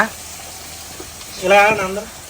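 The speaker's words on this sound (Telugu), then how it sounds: "చేపలు నూనెలో వేపుతున్నాం" Fish fries in hot oil, a constant close sizzle running throughout while a person speaks briefly over it near the end.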